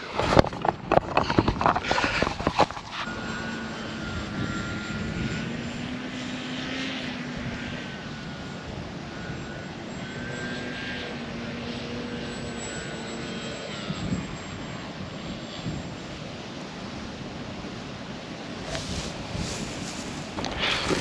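A remote-controlled fixed-wing aircraft with a propeller flies in to land, giving a steady, fairly faint motor and propeller drone at a distance that holds evenly, with a few louder bumps and handling noises at the start.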